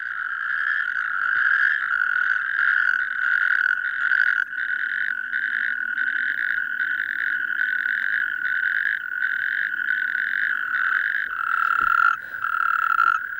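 A dense chorus of male natterjack toads calls continuously, a loud rolling trill of overlapping pulsed croaks that carries on without pause, close and deafening.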